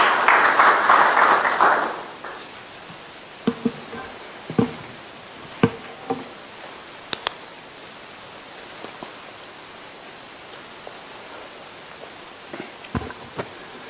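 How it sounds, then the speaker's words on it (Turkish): Audience applause at a university senate ceremony awarding an honorary doctorate to the President of Kosovo. A short burst of clapping lasts about two seconds, then fades to scattered knocks and shuffles in a quiet hall. "Dekanımız Profesör Doktor Sayın Muharrem Özen'i alkışlarla davet ediyoruz senato kararını okuması için."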